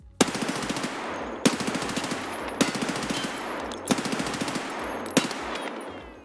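Full-auto gunfire from a low-recoil gun in Escape From Tarkov, loud sustained bursts of rapid shots, each burst lasting about a second and a quarter and separated by sharp gaps, five bursts in a row with no voices.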